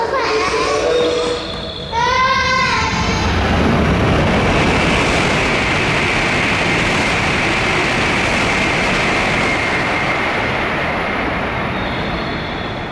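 A Hokuriku Shinkansen bullet train roars through a station at close range, a loud, sustained rushing wash of noise following a brief rising chime-like tone at the start.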